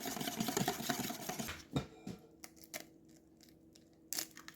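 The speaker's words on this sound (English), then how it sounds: "we're going to whisk in our second egg" Egg being whisked into brownie batter for brookies: a close, busy rhythmic scraping and beating for under two seconds, then quieter, with a few sharp knocks and clicks.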